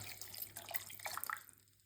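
Tamarind water poured into a pot of hot oil for an eggplant kuzhambu, a quiet close trickle and splatter of liquid that fades out toward the end.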